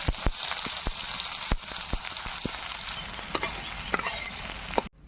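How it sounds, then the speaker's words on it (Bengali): Onions frying in hot oil with whole dried chilies, cumin and black cumin give a steady close sizzle dotted with sharp crackling pops, then cut off abruptly at the end. "পেঁয়াজটাকে আমি সুন্দর লাল লাল করে ভেজে নিয়েছি"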